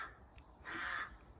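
A crow caws once, fairly near and loud against a quiet outdoor background at sunrise, with a faint short call just before it.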